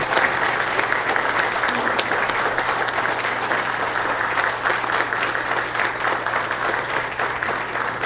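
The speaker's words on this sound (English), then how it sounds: "Let's give a round of applause for all those who are being promoted." At a mayor and council meeting, the audience gives steady, even applause for promoted firefighters, a continuous roomful of clapping over a low steady hum, with no voices standing out.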